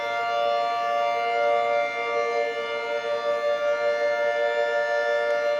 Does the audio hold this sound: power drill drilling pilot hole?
no